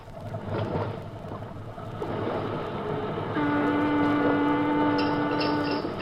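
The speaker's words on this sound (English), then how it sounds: "stood on a police boat, idling at the wharf" A police boat idles at a wharf in a radio drama scene, giving a steady low engine rumble with a faint mechanical hum that swells slightly midway and holds alone without talk.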